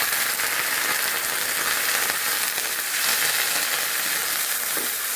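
Prawns frying in hot oil with chopped onion and five-spice tempering, a steady loud sizzle with occasional stirring scrapes.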